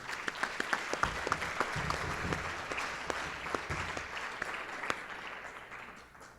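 Audience applause at a lecture on climate and health, moderately sized and fairly quiet, with distinct individual claps popping out early before the clapping settles and fades toward the end.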